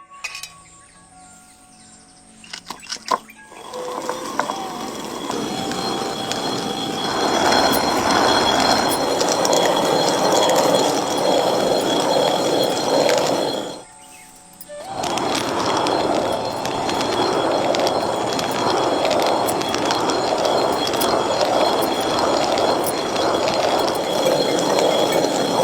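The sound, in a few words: stone wet grinder grinding soaked ragi (finger millet)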